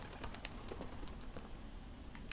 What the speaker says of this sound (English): A little bird.